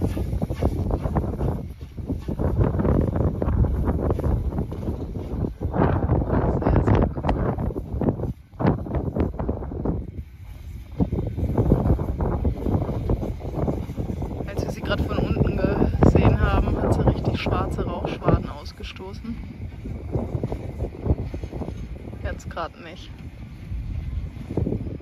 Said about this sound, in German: Also hier oben ist ziemlich windig.